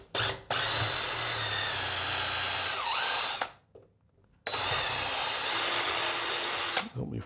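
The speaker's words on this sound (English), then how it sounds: "is drill a pilot hole into where I'm going." Close, loud power drill boring a pilot hole into wood for a handmade wooden nail, two sustained bursts of whirring separated by a short pause, with brief spin-ups at the start and end.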